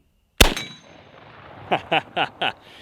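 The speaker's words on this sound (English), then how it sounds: "That little 8-inch gong was nothing." A bullet from a lever-action rifle strikes a small 8-inch steel gong with one sharp, loud metallic clang that rings briefly, followed a second later by four quick, fainter rattling knocks.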